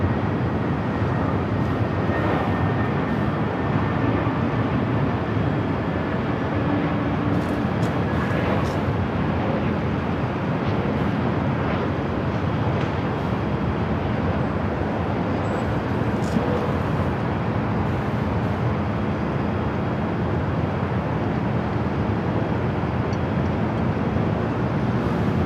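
A heavy airliner taking off at Los Angeles International Airport, a broad, steady roar of jet engines sustained for the whole stretch at moderate distance, with faint traffic noise beneath.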